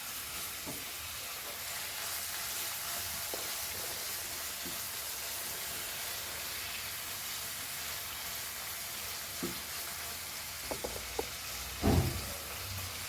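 Tomato and curry leaves sizzle steadily in a pan for Goan prawn cauliflower caldeen, a constant hiss with a few light knocks and a brief louder stir near the end.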